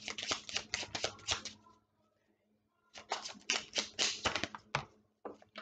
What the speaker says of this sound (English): So as I'm shuffling